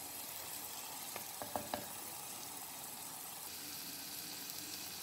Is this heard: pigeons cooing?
no